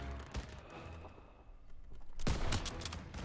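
Gunfire in Call of Duty: WWII, a few scattered shots followed by a louder, denser burst near the end, set against quiet in-game ambience with no talk.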